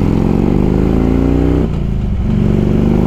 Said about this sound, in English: This bike has Python exhaust. They sound really good.